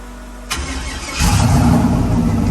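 A car engine fitted with a shaved, busted LS intake cranks with a sharp starter burst, then catches and fires up into a loud, steady rumbling idle.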